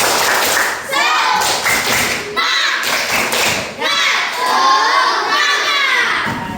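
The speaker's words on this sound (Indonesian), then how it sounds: "Kita tepuk semangat terlebih dahulu." A classroom group of children performs a rhythmic cheer clap, bursts of loud claps and thumps in quick patterns under a teacher's voice and children's shouting.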